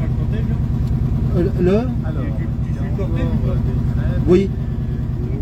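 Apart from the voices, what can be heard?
Vespa 400 microcar engine while driving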